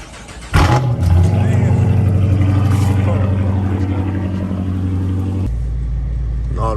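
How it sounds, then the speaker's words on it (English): A straight-piped 345 Hemi Dodge Charger R/T fires up with a sudden loud crank and bark, then settles into a heavy, steady, rumbling idle close by. "I'll start this bitch up"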